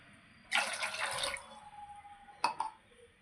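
Water poured from a glass into a pressure cooker, a close splashing pour lasting about a second, followed a moment later by two short clinks or drips; no talking.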